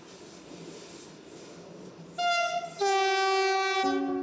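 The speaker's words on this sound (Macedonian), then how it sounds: "Секогаш кога ќе го слушнам свирежот на возот, морам одма да се појавам надвор да видам што се случува." A train rolls along the rails with a low rumbling clatter, then its horn blares loud and close in sustained chordal blasts that shift pitch, alone without talk.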